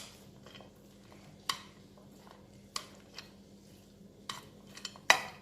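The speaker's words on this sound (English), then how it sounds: "giving it a good mix" A colorful cheese salad being tossed in a bowl, with sparse, sharp clinks and scrapes of a utensil against the bowl over a quiet background.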